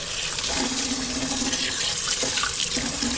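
Rice is washed by hand in water in a wok, with loud, close, continuous sloshing and swirling and occasional brighter splashes.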